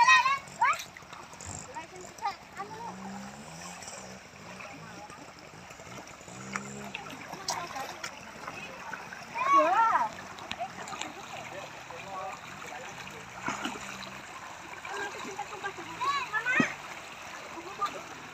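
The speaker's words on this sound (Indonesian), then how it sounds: "hati-hati, arusnya deras." A swift river current splashes and churns around a Chevrolet LUV as it fords the water off-road. Bursts of splashing rise over the rushing flow, while people talk throughout.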